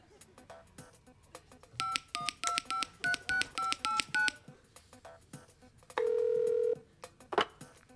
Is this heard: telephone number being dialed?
yes